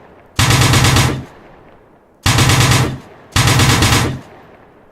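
A vehicle-mounted 12.7mm M2 heavy machine gun in a video game fires three loud sustained bursts, each lasting about a second, separated by short pauses, with no talk over it.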